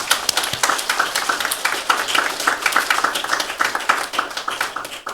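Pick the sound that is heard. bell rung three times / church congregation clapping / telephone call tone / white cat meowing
church congregation clapping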